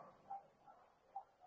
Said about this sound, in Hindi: कुत्ते बहुत भौंक रहे हैं यहाँ पर